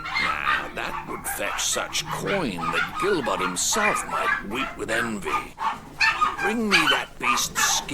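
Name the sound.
dog barking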